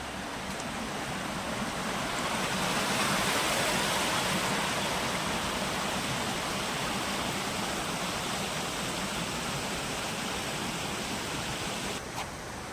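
A small village stream flows steadily, a close, continuous broadband rush of water with no voices over it.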